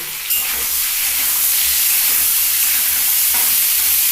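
Sliced ridge gourd drops into hot oil in a wok with green chilli, and a sudden loud sizzle breaks out, then settles into a steady, hissing fry that fills the whole stretch.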